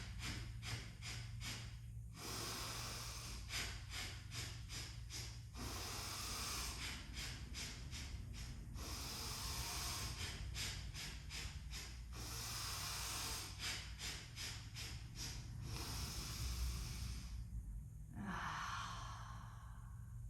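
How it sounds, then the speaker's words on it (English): Forceful rhythmic exhales in quick snapping bursts during pranayama breathing practice, coming in several fast clusters separated by short pauses, close and steady over a low background hum. "exhale with your little snaps"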